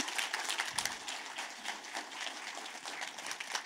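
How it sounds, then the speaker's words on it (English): Conference audience applause, a thin spread of clapping that continues evenly for several seconds at a modest, somewhat distant level. "Everybody give Andy a round of applause"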